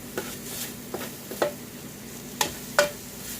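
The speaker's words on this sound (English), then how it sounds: "what I'm doing now is sauteing in the pan" Leeks and yellow onion sautéing in a pan, a faint continuous sizzle broken by several sharp clinks and scrapes of a utensil against the pan, close and fairly quiet.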